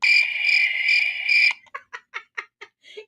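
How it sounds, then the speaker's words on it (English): Crickets chirp in a sound effect, a loud, close, pulsing trill for about a second and a half, then about six separate short chirps at an even rhythm. "Can't forget the crickets."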